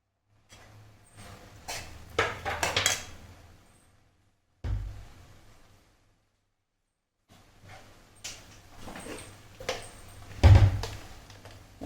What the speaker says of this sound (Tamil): ஸோ இந்த டயத்தில் நம்ம முட்டைக்கோஸ் கட் பண்ணி வச்சுருக்கிறத போடணும்